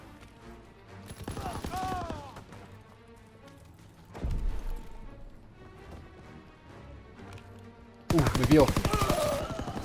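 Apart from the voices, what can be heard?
gunfire in a video game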